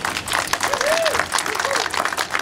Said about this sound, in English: really, truly deserves that round of applause